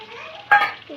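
A single quick scrape and sizzle of chicken being stirred in a hot pan, close up and brief.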